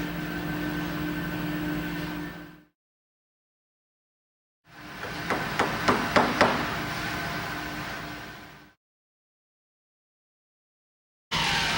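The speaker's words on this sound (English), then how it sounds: "taking the screwdriver and tapping it up into the notch" Screwdriver tapped up into the notch of a spanner nut during repair of a hydraulic concrete paving vibrator: about six quick, sharp metallic taps clustered together over a steady background hum, set between stretches of silence.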